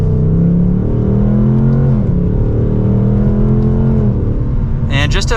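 A 2024 Ford Mustang Dark Horse Premium accelerates hard in sport mode through second gear, its V8 exhaust climbing in pitch with a brief dip mid-pull, loud and close, ending with a sharp burst of high crackle.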